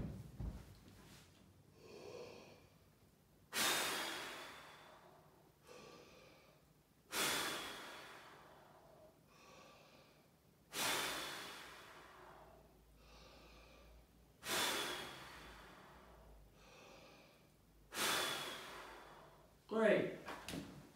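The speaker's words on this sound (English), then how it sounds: "5 big deep breaths." Slow, deep breaths taken while holding a plank in an exercise class, about six long inhale-exhale swells spaced a few seconds apart, close and alone.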